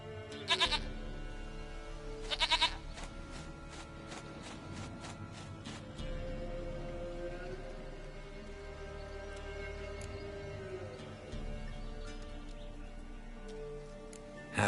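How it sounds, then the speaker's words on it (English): Goats bleat in The Witcher 3, a couple of sharp, loud bleats near the start over a steady game background hum with scattered clicks. "Goat of mine, dearest, sweetest goat."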